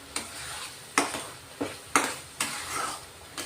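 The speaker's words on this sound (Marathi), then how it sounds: "हा सर्व मसाले आपण चांगले मिक्स करून घेऊ. तेल सुटेपर्यंत परतून घ्यायचे" Spices including garam masala and turmeric sautéed in oil in a pan: a quiet sizzle broken by about seven regular scraping stir strokes with light utensil clinks, close and without speech.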